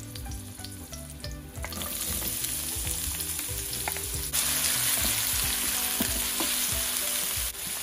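Onion hitting hot olive oil in a pan for a leftover roast beef dish, a loud close sizzle that swells when more goes in, with stirring scrapes and no talking.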